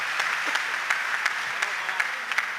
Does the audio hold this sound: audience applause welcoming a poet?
yes